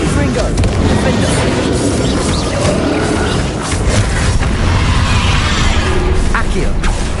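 Dense, continuous combat noise fills the stretch from a Confringo blasting spell in Hogwarts Legacy, with booming blasts and crackling impacts layered together loudly and close throughout, speech mixed in.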